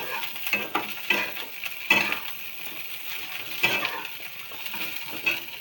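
Green chilies being dry-roasted in a pan for a thecha: repeated rhythmic stirring scrapes and small metallic clinks over a faint, low sizzle, spaced about every second.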